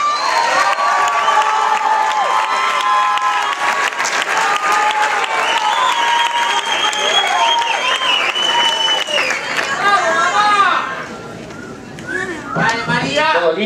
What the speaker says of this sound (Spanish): vamos a recibir con un fuerte aplauso para María Valencia.